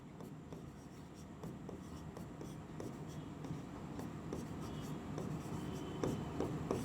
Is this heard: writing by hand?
yes